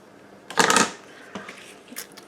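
Paper being cut for a suitcase-style mini album, with a short burst of rustling, crinkling snips near the start followed by a few fainter, scattered paper handling sounds, close and alone.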